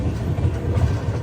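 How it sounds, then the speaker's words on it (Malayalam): Grand Trunk Express pulling into Betul railway station, a steady dense rumble of rail cars and wheels on track, close and continuous, with no voices, cutting off abruptly at the end. "2:41 ബേത്തൂൾ റെയിൽവേ സ്റ്റേഷനിലേക്ക് ഇതാ ട്രെയിൻ എത്തിക്കൊണ്ടിരിക്കുകയാണ്"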